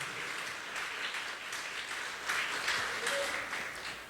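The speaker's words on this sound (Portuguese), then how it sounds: "Pode aplaudir o Senhor Jesus." Church congregation applauding during a sermon, a steady wash of clapping from many hands throughout, swelling slightly midway, with faint voices mixed in.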